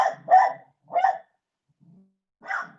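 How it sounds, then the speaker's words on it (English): Dogs barking nearby, three or four loud separate barks with pauses between them and a faint low grumble in one gap. "Sometimes you just have to listen to the dogs bark."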